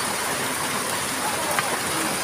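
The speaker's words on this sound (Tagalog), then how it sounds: "At tamang-tama umuulan ngayon oh" Rain falls steadily outdoors in a simple countryside setting, a dense, even hiss that stays loud throughout with no breaks.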